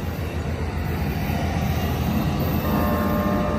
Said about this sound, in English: there go that train. That train is off to Los Angeles